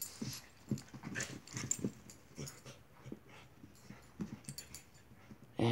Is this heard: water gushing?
no